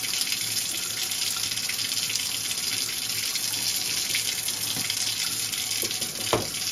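A tap runs steadily to wet a chalk paint brush, a continuous close gush of water into a sink with no talking.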